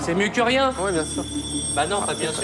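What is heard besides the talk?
telephone ringing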